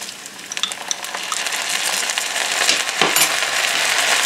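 Garlic fries in olive oil and bacon fat in a pan while it is stirred, making a steady close sizzle with light metallic scrapes and a louder utensil knock near the end. No one speaks.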